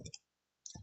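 Two short clusters of keyboard keystrokes tapping on a computer during a livestreamed coding session, quiet and close, separated by a pause.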